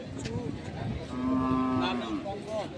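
A bull at a cattle market gives a long, low moo close by, rising and falling, with faint background chatter.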